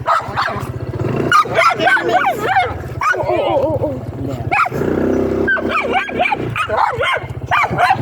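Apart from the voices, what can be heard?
dog barking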